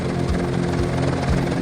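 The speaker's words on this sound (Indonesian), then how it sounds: "Helikopter juga bisa bermanuver di udara dengan terbalik seperti pesawat tempur yang" A dragonfly-inspired helicopter flies with a steady, loud rotor drone and a low rhythmic thump pulsing about twice a second, continuous and unbroken.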